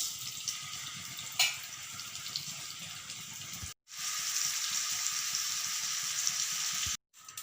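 Chicken pieces frying in oil for chicken kondattam, a dense steady sizzle with light stirring noises, broken by two brief silent cuts.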